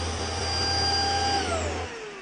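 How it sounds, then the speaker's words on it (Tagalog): A powerful handheld vacuum cleaner runs steadily with a loud whining motor hum, close up and continuous, its pitch dropping slightly as it winds down near the end. "Guys, ang sobrang lakas ng vacuum."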